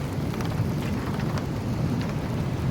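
Heavy rain from the bands of a tornado-warned storm near New Cambria, Missouri pours down in a dense, steady hiss, with a low rumble beneath it through the short stretch.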